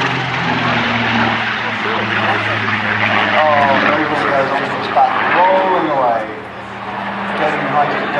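A Seafire Mk17 propeller aircraft sweeps across the Jersey waterfront from left to right at an air display, its engine a steady broad roar throughout while a commentator talks over it.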